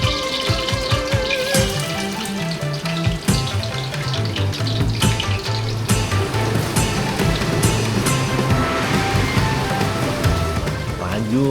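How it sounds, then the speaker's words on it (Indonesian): Shallots and garlic sauté in hot oil with a continuous crackling sizzle, partly masked by steady background music. "Kalau minyaknya wis panas, bawang-bawangannya langsung tak tumis sampai harum."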